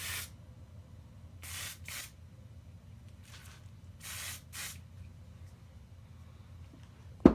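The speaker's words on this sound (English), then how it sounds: "You take hairspray and you just spray it" Hairspray is sprayed onto eyeshadow in four short hissing bursts, two quick pairs separated by a pause, heard close with no talk.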